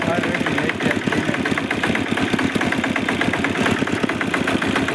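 A tractor engine idles with a steady, rapid low chugging that continues evenly throughout, fairly close.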